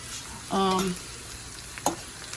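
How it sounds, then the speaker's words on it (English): Lamb pieces fry in a pan with a steady, close sizzle, broken by a short clinking stir around the half-second mark and a brief knock near the end. "Lamb is getting fried or sauteed or whatever you want to call it."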